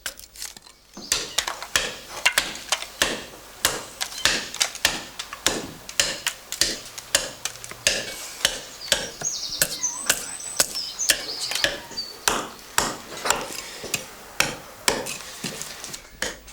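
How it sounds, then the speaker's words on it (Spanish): Adze chopping raw wood to shape wooden clogs (albarcas), a steady, even run of sharp close knocks repeating about twice per second throughout. "Un continuo y uniforme golpeteo con la azuela por toda la superficie deja preparada la pieza para el ahollado de su interior."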